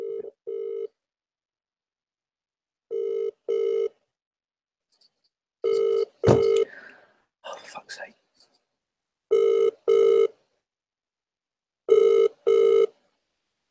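An outgoing phone call rings unanswered, repeated paired ringback tones in a steady rhythm with silent gaps between, clear and close, while a person briefly swears and a few other sounds interrupt between rings.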